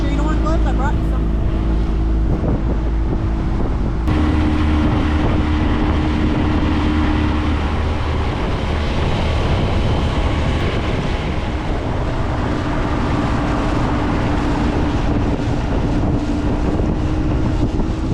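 A jon boat converted into a bass boat runs out on the water, its outboard engine droning loudly and steadily under heavy wind buffeting the microphone.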